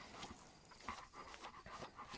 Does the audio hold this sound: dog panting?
yes